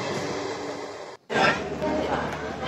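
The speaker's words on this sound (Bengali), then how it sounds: "বিশাল ট্রেন চলছে, ক্রসিং ট্রেনটা শেষই হচ্ছে না" A long crossing train rolls past on a rail journey in India, a steady loud rumble with a brief sharp dropout midway, while a voice talks over it.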